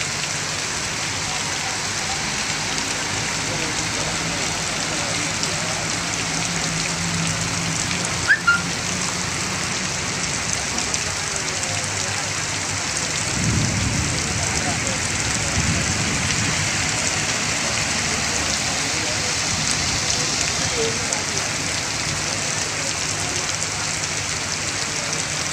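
Heavy, wind-driven summer rain pours onto roads in the Virudhachalam area, a loud and steady hiss throughout, with a brief low rumble partway through.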